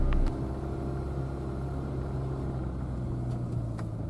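Steady low engine rumble of slow-moving London city-centre traffic during the morning rush hour, heard from inside a vehicle as a constant drone with faint higher noises and no talking.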